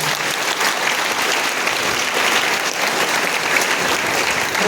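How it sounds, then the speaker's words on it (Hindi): An audience at a spiritual discourse gathering claps loudly and steadily throughout, a dense, continuous wash of applause close by with no talking over it. "तो आपके अंदर इतनी एकाग्रता के लिए जोरदार ताली बजाइए।"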